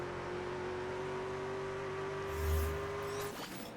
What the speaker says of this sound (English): Turning that car back on